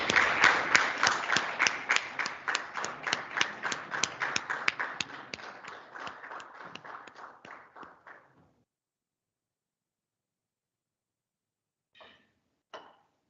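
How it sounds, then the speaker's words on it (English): A hall audience at a World Wildlife Day event gives a round of applause. It starts loud and dense, thins into scattered claps and fades out after about eight seconds. Two isolated claps follow near the end. "Please have a big round of applause."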